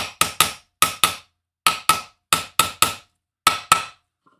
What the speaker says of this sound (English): See if I can hit it with a hammer and make it splash everywhere.